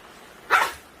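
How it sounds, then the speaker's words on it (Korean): A cranky dog lets out a single short, sharp bark or growl-bark at close range, rising suddenly and then fading over a quiet background. "내 길자가 으르렁하니까"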